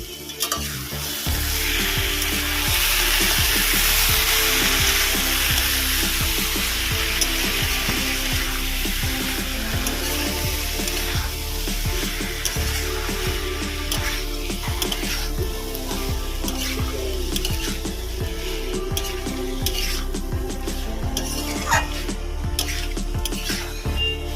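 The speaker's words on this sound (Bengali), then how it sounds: "এবার ভালো করে কষিয়ে নেবো" Dumur (fig) sautés in a pan for a chingri curry with a loud, continuous sizzle. Steady stirring and scraping run through it and no one speaks.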